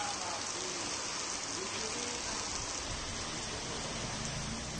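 Heavy monsoon rain pours down in a dense, steady hiss that stays even and unbroken throughout.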